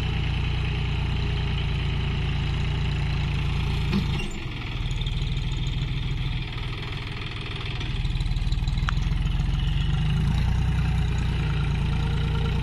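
A tractor pulling a cultivator across a field keeps up a loud, steady low diesel drone, briefly dipping in the middle before surging back, with no voices.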